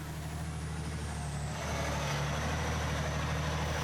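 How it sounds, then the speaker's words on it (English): A truck crawls slowly along a rough bush road in the Congo, its engine a steady, close, droning rumble with a faint high hiss overhead. "The truck moves along at a snail's pace."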